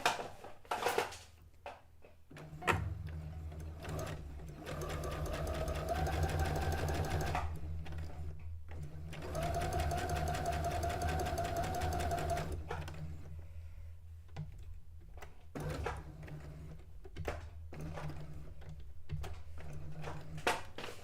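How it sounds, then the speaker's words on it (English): A sewing machine stitches a quarter-inch seam along the edge of a cone-shaped cape or dress, running in steady close bursts with short pauses between them, heard alone. "I'm going to sew this edge and I'm doing a 1/4 inch seam allowance versus my normal 1/2 inch seam allowance."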